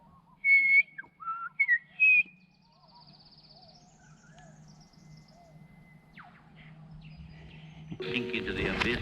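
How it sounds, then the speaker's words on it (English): A person whistles a few short, clear notes close by, followed by quiet outdoor ambience with a low hum and rising rustling noise toward the end. "Cover your ears, I'm about to whistle."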